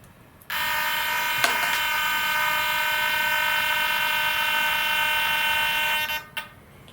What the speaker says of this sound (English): And now let's do the other servo. the other side and see where this centers.